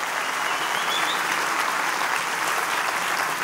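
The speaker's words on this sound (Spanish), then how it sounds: "¡Aplauso para Nicaragua," A comedy cabaret audience in Quito applauds for Nicaraguan guests, dense sustained clapping from a full crowd, loud and steady with no talking over it.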